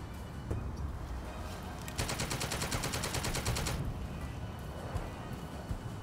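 A rapid rattling burst of machine gun fire, about two seconds long, rings out in a turn-based strategy video game over a constant backdrop of battlefield noise.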